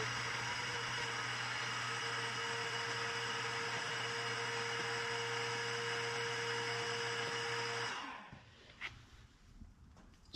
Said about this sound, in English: I'm going to go ahead and vacuum all this out.